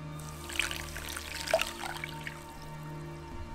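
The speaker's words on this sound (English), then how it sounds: "add in 2 cups of boiling water to our" Boiling water poured over bulgur wheat while making vegan kibbeh, a soft steady trickling pour with small splashy peaks, running for several seconds before tapering off under a low background hum.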